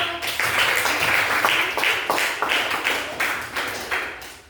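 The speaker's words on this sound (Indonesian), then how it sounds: "tepuk tangan dulu dong" Students in a classroom give a round of hand claps after a quiz in a lesson. The claps come as a brisk, loose patter of separate claps over a few seconds. They are moderately loud and fade slightly toward the end.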